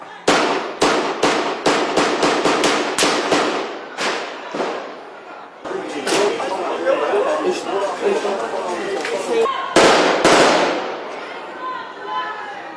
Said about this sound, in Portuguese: Nesta, onde traficantes estariam escondidos, uma intensa troca de tiros.